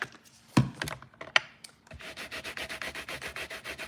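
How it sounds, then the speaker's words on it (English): A rubber stamp sentiment coated in Mossy Meadow ink is scrubbed on a Stampin' Scrub pad, giving a few scattered taps and then a steady, close, rhythmic back-and-forth scrubbing rasp with no voices. "I'm going to clean the Mossy Meadow ink here off of my sentiment."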